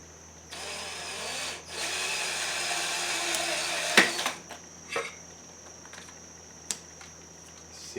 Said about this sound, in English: Unless my drill bit is really like dull